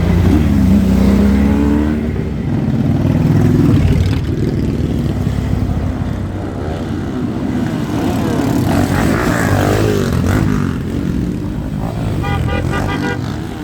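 A motorcycle engine roars past close by, loud and steady, its pitch shifting as it goes by, with traffic noise around it.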